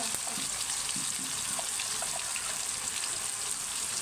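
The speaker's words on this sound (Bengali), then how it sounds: "আমরা প্রথমে মরিচ, পেঁয়াজ বাটা, রসুন বাটা, আদা বাটা এটা দিয়ে একটু কষিয়ে নেব হালকা করে।" Chili with onion, garlic and ginger paste sautéing gently in a pan for beef bhuna, a steady soft sizzle with faint scraping, close and continuous with no talk.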